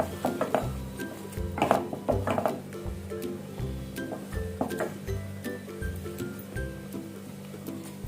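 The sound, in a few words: stirring food in a pan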